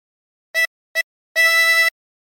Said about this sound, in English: And blow into 7 3 times.